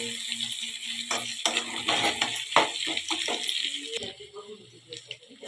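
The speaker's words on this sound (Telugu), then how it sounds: "చికెన్ని కలుపుకుంటూ ఫ్రై చేసుకుందాం, లేకపోతే కింద మాడిపోయే ఛాన్స్ ఉంది." Chicken legs are stirred as they fry in a pan, with scraping and metallic clinks from the utensil over a sizzle that fades toward the end.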